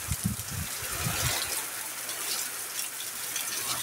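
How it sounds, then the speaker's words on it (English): Steady, heavy pouring rain during a storm, a dense continuous wash of water noise close by, with a few low thumps near the start and no voices. "It's like pouring rain up, and I can hear storms."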